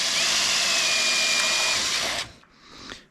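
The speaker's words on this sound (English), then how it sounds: "Got that one drilled." Power drill boring into a wooden porch swing board, a loud steady high whine that cuts off abruptly, followed by a short quieter spin-down burst.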